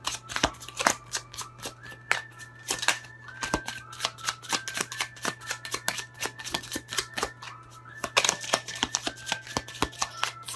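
Close, crisp shuffling of a Pure Love Oracle card deck, with repeated riffles and taps in uneven bursts and a steady low hum in the background.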